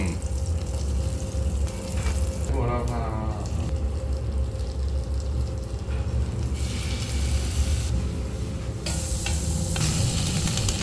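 Butter sizzles and crackles steadily in a hot pan, with faint clatter and a brief spoken word over the frying.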